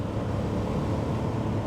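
A 1972 Mercedes 250C with a single overhead cam straight six and 4-speed automatic accelerating, heard from inside as a steady loud engine drone mixed with road and wind noise.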